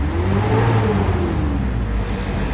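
Cold engine of a Mitsubishi Adventure revved to about 3,500 rpm, a close mid-pitched engine note that rises then eases back down in one smooth sweep, steady and without speech.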